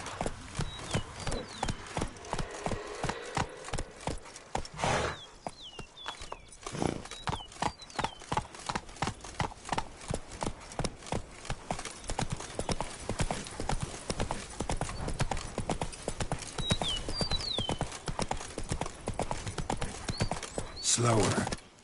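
Rapid, rhythmic hoofbeats of a galloping horse in The Witcher 3 carry on steadily throughout. Occasional whinnies and short bursts of other game sounds break in, and a voice speaks at moments.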